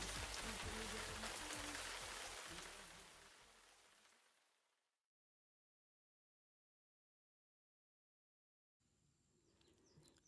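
Steady broadband rain patters on a surface and gradually fades to silence, after which a quieter ambient wash returns.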